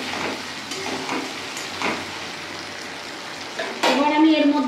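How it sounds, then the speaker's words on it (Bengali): A paste of green chilli, tomato, ginger and garlic fries in hot oil, giving a steady soft sizzle with stirring scrapes, and a louder burst of sizzling near the end as a person speaks over it. "এবার তেলে ভালো করে ভেজে নেব এই মশলাটা।"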